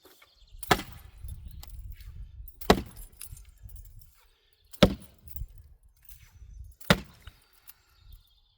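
An axe chops knotty wood in four sharp, loud strikes spaced about two seconds apart, each a crisp crack with quieter rustling and handling between blows.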